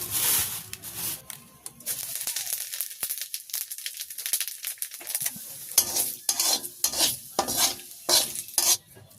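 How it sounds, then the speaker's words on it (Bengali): Cumin seeds fry in a pan over a village cooking fire, a soft crackling sizzle with frequent scraping stirs and light rustling, fairly close and without talk. "আমি এখন কয়েকটা জিরা ভেজে রাখবো"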